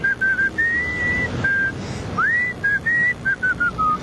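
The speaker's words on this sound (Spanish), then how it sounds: "Pero te puedo silbar." A man whistles a simple melody on a television broadcast, clear, loud and close, with short phrases of held and sliding notes and brief pauses, no talking over it.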